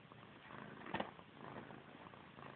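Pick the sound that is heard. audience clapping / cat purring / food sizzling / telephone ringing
cat purring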